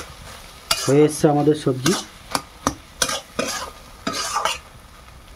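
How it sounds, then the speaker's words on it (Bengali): Vegetables being stirred in a pan over a village kitchen fire while cooking into a mixed-vegetable chorchori, with a series of short scraping and clattering strokes and a soft sizzle, after a brief stretch of speech at the start. "আবার ঢাকা দিয়ে দিল, আবার নেড়ে দিচ্ছে।"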